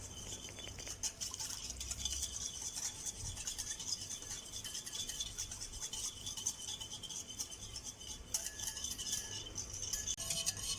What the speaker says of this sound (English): Continue whisking until you see the mixture becomes fluffy.